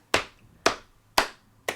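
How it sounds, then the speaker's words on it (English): Four evenly spaced sharp hand claps, about half a second apart, close and crisp with quiet gaps between them, as part of a gentle hand jive routine; no talk. "you're tapping the hands gently on the thighs and clapping them together"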